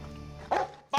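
Police dog barking during a bite test against a protective bedliner-coated jacket, two sharp, loud barks close by with a brief pause between them.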